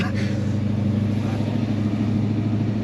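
HQ Holden Premier car engine runs steadily at close range, a low continuous hum as it drives and eases to a stop, with no talking.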